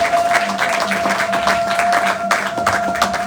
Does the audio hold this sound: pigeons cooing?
no